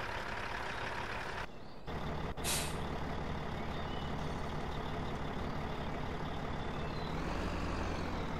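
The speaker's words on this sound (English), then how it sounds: "I'm just gonna bring the truck down here." A farm truck drives with a steady, constant engine rumble, accompanied by a brief hiss near the start and a slight rise in engine tone toward the end.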